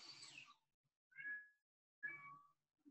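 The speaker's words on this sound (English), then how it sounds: "I hear a cat." An indoor cat meows several times in short, separate calls with pauses between, fairly quiet and slightly distant, as if wanting to be let out.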